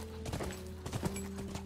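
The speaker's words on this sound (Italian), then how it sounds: "Bellissimo quel cavallo." Horse hooves clip-clop in The Last of Us, a steady close gait of repeated thuds, with a whinny and low background tones alongside.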